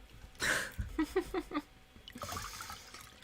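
Water is poured to refill a supply at a chess championship broadcast desk: a close splash, then a run of gurgling glugs that fade into a soft, steady trickle.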